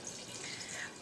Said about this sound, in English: you want to fill this little container full of water